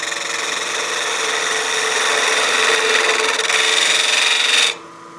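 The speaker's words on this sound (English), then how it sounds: "I'm actually going to switch to my spindle gouge now to cut my tenon." A wood lathe spins a witch block head blank at speed while a spindle gouge cuts a tenon, giving a steady close scraping whir that runs loud and even, then cuts off sharply near the end.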